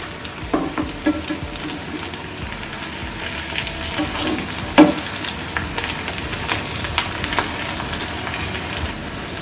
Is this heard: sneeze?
no